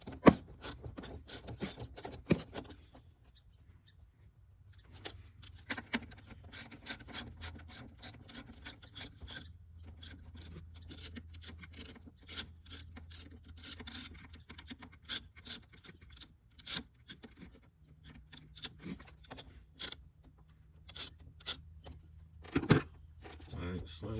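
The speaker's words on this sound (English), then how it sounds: "for these you can use either a flathead or you can use an 8 mil ratchet" An 8 mm ratchet loosens fasteners during a Nissan/Infiniti spark plug replacement, giving quick runs of faint clicking at close range with brief pauses and low rubbing handling noise between them.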